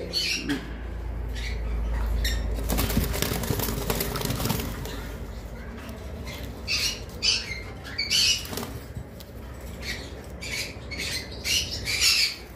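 Pied cockatiels kept as breeding pairs move about their cage, with sharp squawks, rustling and brief wing flutters close by, and a person talking now and then.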